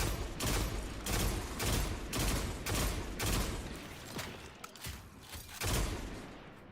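Gunfire in Destiny 2: The Final Shape, a rapid series of loud, booming bursts about every half second to second, close and dominant with no talk over them.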